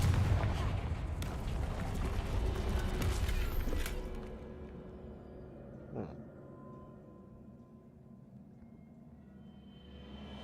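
A Confringo blast spell in Hogwarts Legacy sets off a loud, sustained booming roar for the first few seconds, then a single duller thump follows before quieter ambience.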